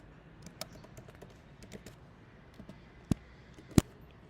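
Scattered keystrokes on a computer keyboard, quiet and sparse, then two sharp, louder taps near the end, close and without talk.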